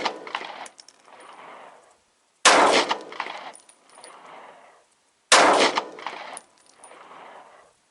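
Three loud, sharp gunshots from a 9mm Shield pistol firing Hornady 135-grain +P factory ammunition, evenly spaced a few seconds apart outdoors, each followed by a softer echoing tail and brief clatter before silence.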